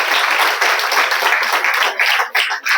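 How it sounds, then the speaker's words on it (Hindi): A room of newly appointed municipal guards applauds to welcome a speaker to the front, loud close clapping that runs steadily and thins out in the last second. "संध्या के लिए जोरदार तालियों से स्वागत करें।"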